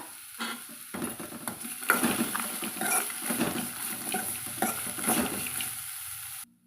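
Ridge gourd peel sautés with salt in a pan, a close sizzle broken by repeated scraping stir strokes in an uneven rhythm, stopping abruptly at the end.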